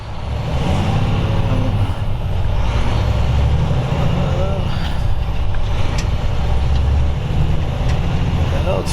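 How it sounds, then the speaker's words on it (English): A Volvo truck with an I-Shift automated transmission accelerates hard from third gear at full throttle. The loud, steady engine roar climbs through the gears and runs continuously throughout. "right now we got the transmission in third gear, and I'm putting the pedal to the floor."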